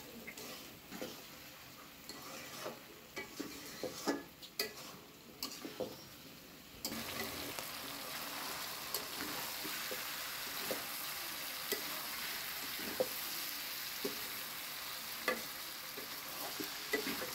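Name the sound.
frying and stirring bitter gourd with jackfruit seeds in a pan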